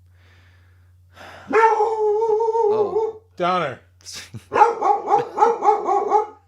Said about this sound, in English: he probably hears the dogs across the street